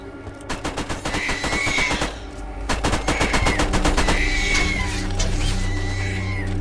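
A turret's machine gun fires in Borderlands, with rapid bursts of loud gunfire in the first seconds, then sustained firing over a steady low hum.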